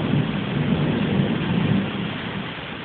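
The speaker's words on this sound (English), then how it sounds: "I've never known such a storm. It's unique." A tropical thunderstorm in South Africa, loud continuous rain roaring with low rumbling thunder swelling and fading, heard close and with no voices.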